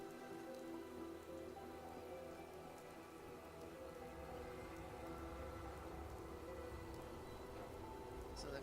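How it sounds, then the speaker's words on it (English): Rain falls steadily in the virtual world of Fallout 4 VR, a constant soft patter of drops that stays low and even throughout, with no talking. "Hope this rain lets up soon."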